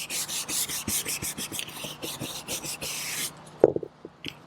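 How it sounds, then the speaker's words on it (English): A stiff scrub brush scrubs around an RV skylight in quick back-and-forth strokes, a rhythmic rasping series close up, stopping near the end with a few small knocks. "Use a scrub brush to clean."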